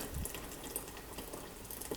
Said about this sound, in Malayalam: ഇനി നമുക്ക് കുറച്ചും കൂടി വെള്ളത്തിൻ്റെ ആവശ്യമുണ്ട്, അത് ഒഴിച്ചു കൊടുക്കാം